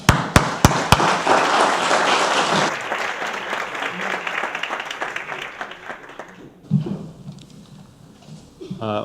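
Audience applause welcoming speakers at a talk, opening with a few sharp single claps that swell into dense sustained clapping, then thin out and fade to scattered claps and room noise.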